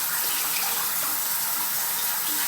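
Tap water runs steadily from a faucet as a spoon is rinsed under it at a sink, a continuous close hiss with no talk over it.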